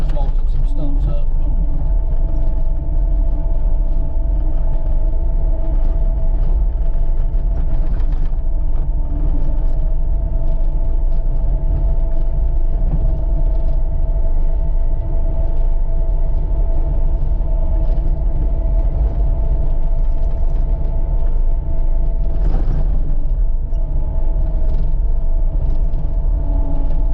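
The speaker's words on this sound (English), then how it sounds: "Just mulching some stumps up." A forestry mulcher grinds tree stumps along hunting trails in old coal mine country, a loud, unbroken low engine rumble with steady mechanical whine and occasional crunching bursts, close up the whole time.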